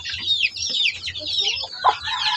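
Native backyard chickens, including month-old chicks, cluck and peep in a busy overlapping chorus, fairly close and lively, with no voices over them.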